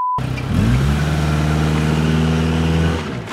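A Scion car engine revs hard under full throttle, rising to a steady loud roar that is held for a few seconds and then eases off. The sound is close, with no talking.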